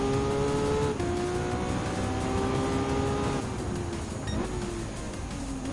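Racing engines from Ferraris in Gran Turismo 7, including an F8 Tributo passing a 1975 308 GTB, drone continuously at high revs, with pitch sweeping up and down through gear changes as the cars jostle side by side.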